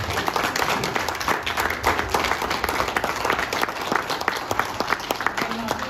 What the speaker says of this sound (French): Alors tout le monde, on peut bien lui donner une bonne main d'applaudissement.